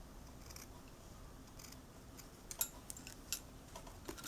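Scissors cut a flower shape from chiffon saree fabric, with a few faint, sparse snips in a very quiet room.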